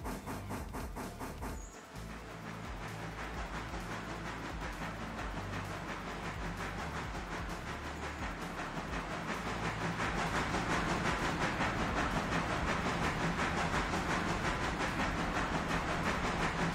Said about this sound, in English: Right, passenger train is ready to depart.